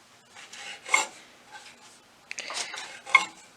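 Knife sawing through bread to trim the crusts off the sides for double ka meetha, a few short rasping strokes in two bursts, close and fairly soft, with no talking.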